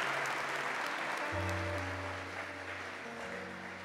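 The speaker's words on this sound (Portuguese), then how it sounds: "Dê uma salva de palmas para os anjos da tua casa." Steady applause from a worship audience, a dense, even patter of clapping heard from a distance beneath a low sustained musical drone.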